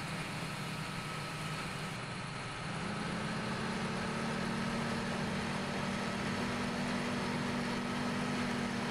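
A Claas Axion 900 series tractor engine in Farming Simulator 17 idles as a low, steady drone, then settles into a slightly higher, even hum, close and continuous with no voices.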